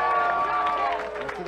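A wrestling crowd cheers in approval during a match, a dense roar of voices that stays steady and loud throughout and carries a sustained tonal hum beneath it.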